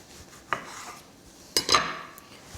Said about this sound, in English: just using a spoon and remove the seeds.